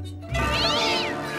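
A cartoon cat lets out one long, drawn-out meow that rises and falls, loud and close, with no talking over it.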